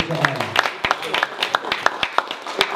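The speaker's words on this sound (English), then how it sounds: "Give yourself another round of applause." Audience applause at a boxing press conference: scattered sharp claps ring out in an uneven patter, fairly close, with voices talking over them.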